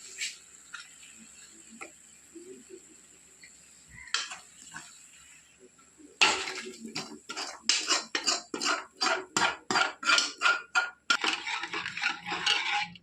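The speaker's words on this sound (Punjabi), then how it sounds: "ਹੁਣ ਅਸੀਂ ਤੁੜਕੇ ਨੂੰ ਦਾਲ ਵਿੱਚ ਐਡ ਕਰਤਾ ਹੈ" Hot tadka tempering poured into dal makhani in a pot, starting with a few light clinks and then a loud, close burst of rhythmic scraping, clattering stirring strokes, with no voices.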